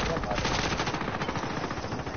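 Rapid automatic gunfire from a PS4 shooter game, a dense continuous burst of shots running for a couple of seconds, fairly loud with faint talk beneath.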